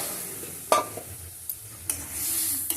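Boiled dal goes into a sizzling tadka for dhaba-style egg tadka, opening with a sharp splash and clatter, then a few scattered stirring scrapes over a steady hiss of frying.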